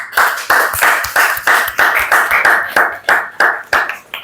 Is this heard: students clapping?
yes